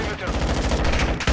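Rapid gunfire in the online shooter game Fortress, a quick burst of repeated sharp shots over about a second, loud and close, ending in a heavier bang.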